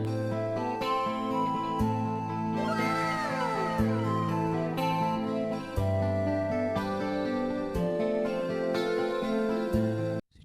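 A keyboard set to a flute-like voice plays a melody over sustained chords and a steady bass line in a live band song, with gliding, bending tones near the middle.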